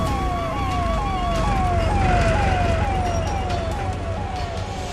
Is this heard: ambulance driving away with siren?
yes